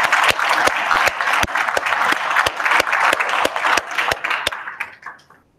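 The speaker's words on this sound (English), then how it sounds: "Would you give her a round of applause, please?" Applause at a school board meeting for the board vice president, a crowd clapping loudly with sharp individual claps close by, tapering off and fading to silence at the end.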